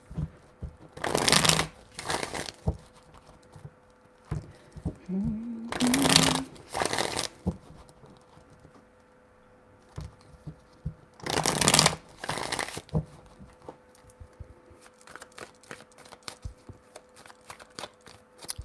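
Tarot cards shuffled by hand in three separate bursts of crisp riffling, each lasting about a second or two, with quiet pauses between and a faint flutter of cards near the end.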